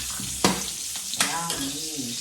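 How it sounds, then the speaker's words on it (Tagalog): Steady sizzling of eggs frying in a hot pan, with a few clinks of utensils and a faint voice underneath. "Nagpiprito pa ako ng itlog, saka tuyo, saka kamatis"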